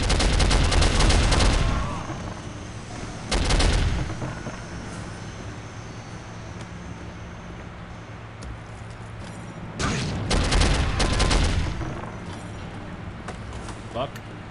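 Loud bursts of automatic gunfire from the shooter video game Soldier of Fortune, a long volley at the start, a short one, then another heavy stretch, with quieter game ambience between and talk faintly present.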